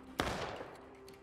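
A single sharp gunshot bang from the video game War of Rights rings out, followed by a decaying echo and a faint low hum.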